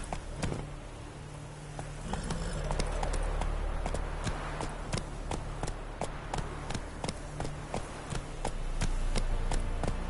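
Roach, Geralt's horse in The Witcher 3 video game, gallops with rapid, steady clip-clop hoofbeats that stay close and prominent over a low ambient rumble for the whole stretch.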